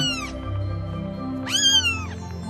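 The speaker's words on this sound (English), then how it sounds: "A baby cat is called a kitten" A cat meows twice, a short call then a longer rising-and-falling one, over a steady low background hum.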